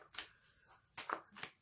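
Oracle cards are shuffled by hand in a few soft, quick riffling bursts, faint and close, with no talk.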